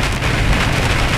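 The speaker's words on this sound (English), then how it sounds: "Now here we got some high winds and pretty heavy rain." Heavy rain and high winds striking a moving vehicle on a highway toward Pennsylvania, a loud, continuous roaring wash of rain and wind noise.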